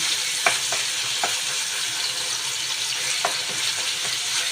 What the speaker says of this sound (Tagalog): nilagay ko na yung meat para maluto siya